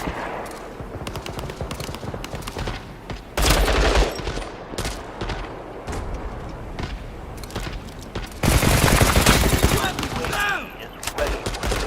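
Rapid gunfire from the video game World War 3, with machine-gun bursts and single shots crackling in bursts, louder volleys swelling midway and near the end, under faint talk.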